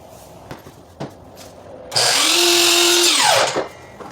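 A power saw cuts crown molding at 45-degree angles for kitchen cabinets. One loud whining cut lasts about a second and a half, then the blade winds down, after a few faint clicks.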